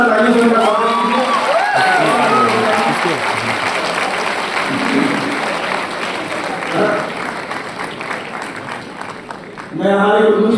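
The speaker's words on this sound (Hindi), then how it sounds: "जोरदार तालियों से उनका स्वागत कीजिए" An audience at a university event in Bhopal claps to welcome an arriving guest, a loud sustained round of applause with cheering and shouted voices, while a speaker's voice talks over it at the start and end.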